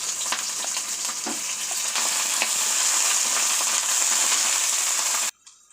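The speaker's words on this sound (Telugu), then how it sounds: "ఇలా ఉల్లిపాయ ముక్కల్ని ఇలా ఆయిల్లో ఫ్రై చేసుకుంటే సరిపోతుంది" Sliced onions, cut lengthwise, sizzle steadily in hot oil in a pan for a homemade pizza, a dense, continuous frying hiss with faint stirring clicks that cuts off abruptly near the end.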